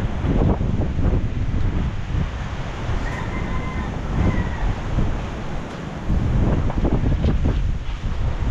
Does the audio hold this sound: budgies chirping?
no